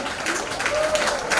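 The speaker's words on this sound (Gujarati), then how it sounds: "જોરદાર તાળીઓથી આપણે વધાવી લઈએ." Audience applause rises at a devotional ashram gathering in Surat, a short burst of dense, steady clapping with a faint tonal ring through it and no voices.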